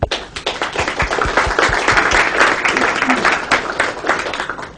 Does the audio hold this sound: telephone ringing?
no